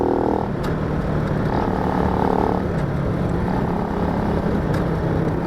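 A Honda C90 motorcycle engine running while being ridden, a loud continuous drone close by that shifts slightly in pitch, with no talking.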